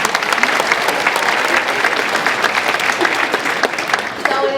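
Sustained crowd applause fills a high school Martin Luther King Jr. assembly, dense and even throughout, with faint voices briefly surfacing near the end.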